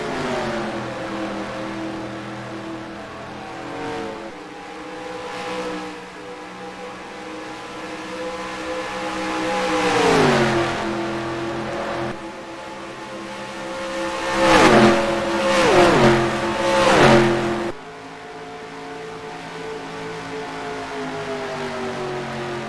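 Stock cars on an oval at Lowe's Speedway in NR2003 roar continuously, engines droning with rising and falling pitch as several cars sweep past, loudest in two bursts near the middle.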